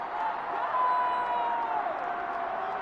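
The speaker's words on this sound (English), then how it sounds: "The crowd is going wild." Football fans celebrate in the street after an Eagles win that sends them to Super Bowl LIX, a dense steady roar of crowd cheering and whooping with a whistle cutting through.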